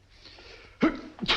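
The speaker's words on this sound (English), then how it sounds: "Gesundheit." A single sharp sneeze bursts out after a quiet room tone, followed by a brief second breathy burst, close and fairly loud in a 1942 film scene.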